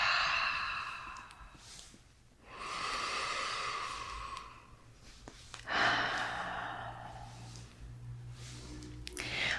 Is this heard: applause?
no